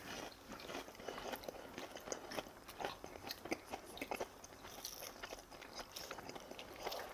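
Close, quiet chewing of fried seaweed rolls (gimmari) at a family meal, with soft irregular crunches and bites repeating steadily and no talking.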